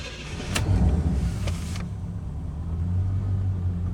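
A 1986 Corvette engine turns over and fires after a mass air flow sensor replacement: a brief cranking burst with a couple of sharp clicks, then a steady, low idle rumble close by, no talking.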